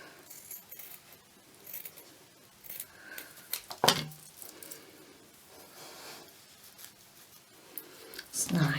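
Scissors snip a piece off crafting material in a few short, crisp cuts at close range, surrounded by rustling and handling noises, with a voice murmuring at times.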